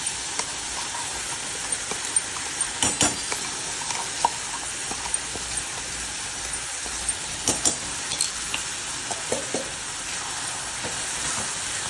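Ground garlic and red chili paste fry with onion in a pan for a dried bombil chutney, a continuous hiss with intermittent spatula clinks and stirring knocks, close and alone.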